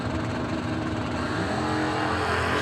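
A C4 Corvette, the Disco Corvette, roars down a drag strip at a nationals drag racing event, a loud sustained engine blast with crowd and track noise, ending as the car passes by.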